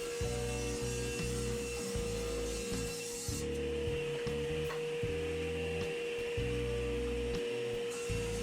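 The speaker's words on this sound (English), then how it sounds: "The other edge is cleaned up with the table saw." A table saw trims the edge of a wood strip: a steady motor hum carries throughout while rough, rasping cutting bursts come and go in a repeating rhythm.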